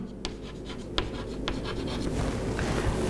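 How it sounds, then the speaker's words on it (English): A teacher writes on a board during a class-nine chemistry lesson, with short scratchy strokes and a few sharp taps over a steady room hum, and no talk. "Okay, I'll write it."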